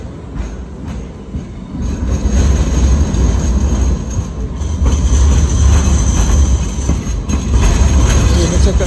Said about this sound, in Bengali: এই হচ্ছে একটা ট্রেন, এটার নাম হচ্ছে লাইট ট্রেন।